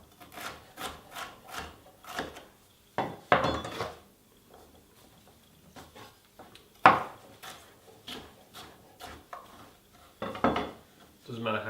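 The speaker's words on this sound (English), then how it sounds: "Core the pepper, get rid of some of the pith as well, and then we'll just slice this up as well." Knife slicing a cored bell pepper on a chopping board, a run of sharp, close chopping taps and scrapes in irregular bursts over about ten seconds, with quieter pauses between.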